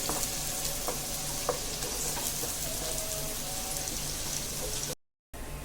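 Chopped onion sizzles and crackles steadily in hot oil and ghee, a constant frying hiss with a few soft stirring clicks.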